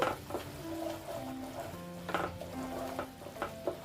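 Spices are stirred as they fry in a pan, with a soft, continuous sizzle and the clinks and scrapes of a spoon working the pan at close range. There is no talking.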